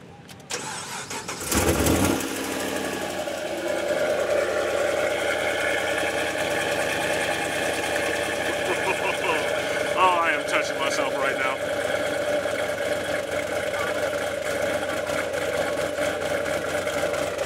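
A Chevrolet Camaro at a Caffeine and Octane car meet in Atlanta fires up with a loud, sharp starter crank and roar, then settles into a steady, rumbling idle that carries on under nearby voices and crowd noise.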